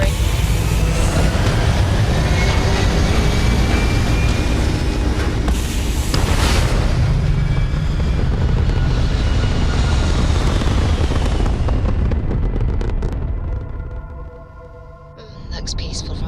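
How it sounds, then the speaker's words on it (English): Spaceship thrusters in Starfield roar as a loud, continuous broadband rumble that holds steady for about twelve seconds before thinning and fading, then a softer hum returns. "All thrusters firing."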